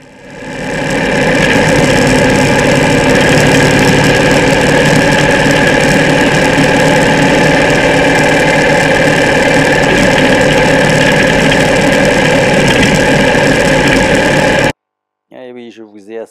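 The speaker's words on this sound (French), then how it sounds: "je vais vous laisser écouter le moteur, ça fait un peu peur" A loud, rough vehicle engine idles steadily for a long stretch on a road trip in Mongolia, with a harsh, knocking drone that cuts off abruptly before a voice speaks at the end.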